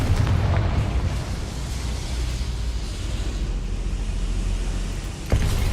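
A Confringo blasting spell erupts in the Hogwarts Legacy video game with a deep, rumbling explosion that rolls on continuously, followed by a sharper burst near the end.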